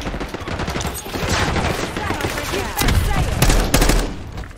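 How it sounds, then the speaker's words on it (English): Electric shotgun fire in Call of Duty: Black Ops 6 multiplayer on the Babylon map in Domination mode, loud and dense with overlapping blasts and crackling bursts, continuous throughout with no clear gaps. "It's like an electric shotgun."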